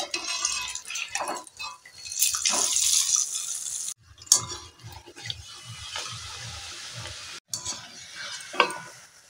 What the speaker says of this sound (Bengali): তো এইভাবেই আমি সবগুলো কিন্তু ভেজে নেব।